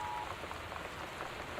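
Rain patters steadily on surfaces in the video game Gone Home during a storm with high winds, a faint, dense drumming continuing throughout.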